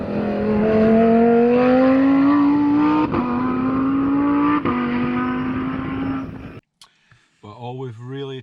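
A Lamborghini Huracan supercar's engine revving loudly nearby, holding a droning tone that climbs in two short steps, then cutting out abruptly before a voice speaks.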